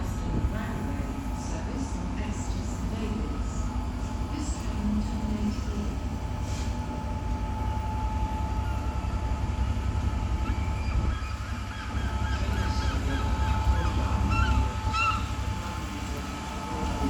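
A Transport for Wales Premier set train rumbles steadily at Cardiff Central, a deep continuous engine drone filling the platform with faint station noise over it.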